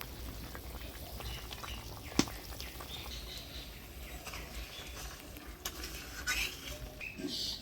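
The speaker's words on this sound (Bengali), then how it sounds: "ঝোলে বলক এসে গেছে।" Fish curry broth for Bengali village-style fuli fish curry boils in a pot with a faint, steady bubbling and soft pattering throughout, broken by a few light clinks.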